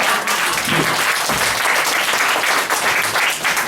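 Audience applause at a birthday celebration for Dr. Aristide in Brooklyn, a steady, dense clapping from a crowd that stays loud throughout, with faint voices mixed underneath.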